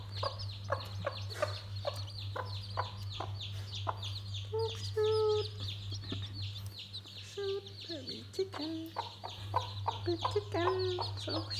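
A hen clucks repeatedly in short rhythmic bursts while chicks peep in thin high calls, all close, over a steady low electrical hum.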